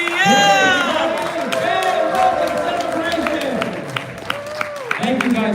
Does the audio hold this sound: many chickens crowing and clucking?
no